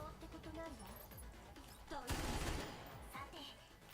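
A burst of gunfire from the video game Girls Frontline 2: Exilium rattles briefly at low volume amid other faint game effects, with a brief crash-like flare in the middle.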